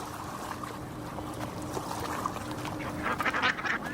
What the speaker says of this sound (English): Look at those Muslim ducks.